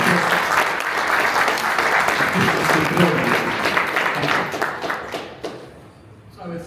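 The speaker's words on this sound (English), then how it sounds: "They deserve a huge round of applause for what they managed to do" A crowd at a transit agency panel event applauds steadily for several seconds, the clapping dense and loud before thinning out toward the end.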